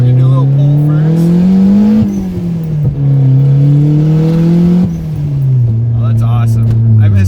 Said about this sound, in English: So we're gonna do a little pull first.